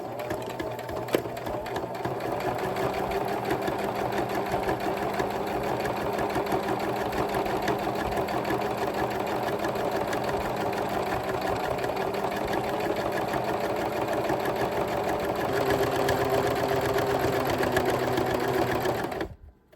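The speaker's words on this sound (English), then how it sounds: "I'm going to start on the outer edge and do an edge stitch, which will be 1/8 of an inch from the edge or curve of the brim" A sewing machine runs a steady edge stitch around the curved brim of a bucket hat, a continuous loud motor whir that barely shifts in pitch for nearly twenty seconds before stopping abruptly.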